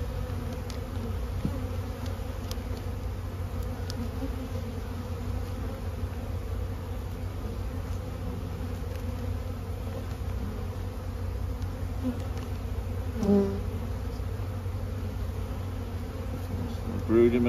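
Honey bees hum loudly at an open single-brood-chamber hive full of larvae and emerging brood, a thick, constant drone close by that runs unbroken for the whole stretch with no voices.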